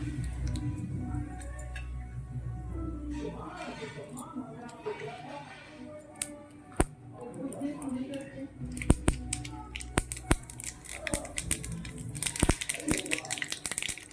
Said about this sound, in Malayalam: കടുക് പൊട്ടി വന്നു